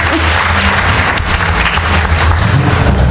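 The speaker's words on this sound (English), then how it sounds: "give a round of applause" Audience applause at a reggae revival panel at Reggae University 2013, a loud, steady wash of many hands clapping throughout the short stretch.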